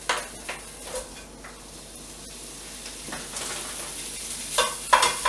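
Lardons sizzle in a preheated, unoiled frying pan: a steady crackling hiss with occasional sharper pops and a few stirring scrapes, close and fairly quiet, with no talking.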